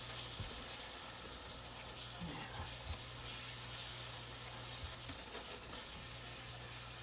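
Taco meat with seasoning mix and water simmers in a pan, a soft continuous bubbling sizzle with faint stirring and clinks, quiet and close.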